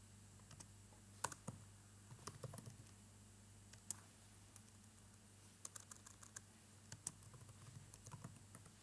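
Someone types on a computer keyboard, with quiet, irregular clicks and small bursts of keystrokes over a low, steady room hum.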